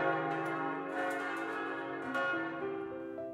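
Heavy, centuries-old church bells driven by their original motors ring with deep, sustained tones, several overlapping strikes blooming and decaying into a continuous resonant hum, close and fairly loud with no voices.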